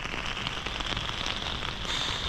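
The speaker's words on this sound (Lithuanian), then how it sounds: "Lyja" Rain falls steadily around a tent campsite in Iceland, a dense, close hiss of drops pattering on surfaces with no pauses.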